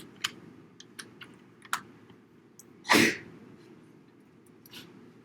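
A single sharp sneeze bursts out near the middle, loud and close, amid scattered quiet keyboard typing clicks in a still room.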